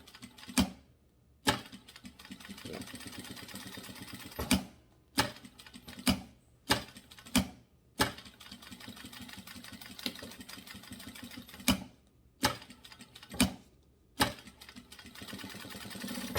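A sewing machine stitches slowly over a zipper, giving a low mechanical whir in short bursts with sharp clicks and pauses between them. It sounds close and steady, with no voices.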